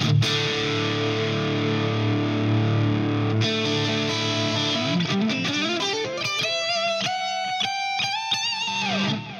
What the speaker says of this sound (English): You're gonna hear a little bit of buzz because it's single coils.